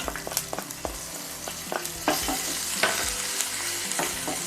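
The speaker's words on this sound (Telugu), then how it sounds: "ఒక కడాయి పెట్టుకొని ఆయిల్ వేసుకొని కొంచెం జీరా, ఆవాలు" Cumin and mustard seeds fry in oil in a kadai, giving a bright crackling sizzle with quick popping ticks and stirring scrapes that grow louder partway through, close with no talking.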